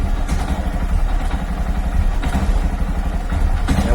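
A motorcycle engine chugs roughly and unevenly close by, sputtering and never picking up speed, with a few clunks underneath.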